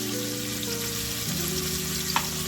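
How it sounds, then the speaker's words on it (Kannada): Onions sautéing in a pan until reddish, a steady even crackle and hiss with faint low background hum and one small clink near the end, no talking. "ಈರುಳ್ಳಿ ನೀಟಾಗಿ ಹಾಕಿದ್ದಾದ್ಮೇಲೆ ನೀಟಾಗಿ ಬಾಡಿಸ್ಕೊಳ್ಳಿ"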